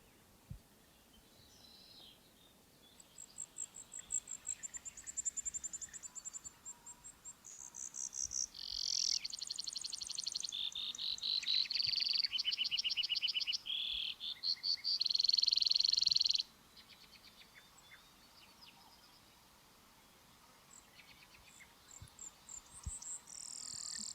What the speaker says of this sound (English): This is Brewer's sparrow.